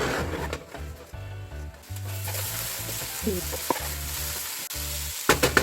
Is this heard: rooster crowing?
no